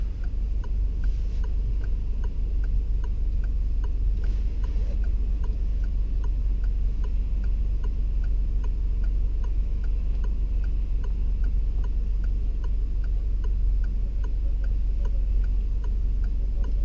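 A car's turn signal indicator ticks steadily and evenly throughout, a regular mechanical clicking inside the cabin over a constant low engine and road rumble, with no talking.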